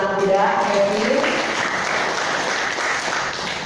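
Audience applause at a small-business (UMKM) seminar, a steady broadband clatter of clapping hands that stays even and fairly loud for the whole stretch, with faint voices underneath.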